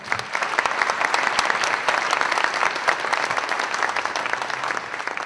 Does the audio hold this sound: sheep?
no